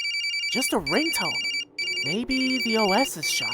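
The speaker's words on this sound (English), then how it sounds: "If I'm receiving a call, then why is the blasted thing still in photo view mode?" An electronic phone ringtone from the horror game Corpse Party repeats in a steady beeping pattern beneath a voice, which talks over it for most of the clip.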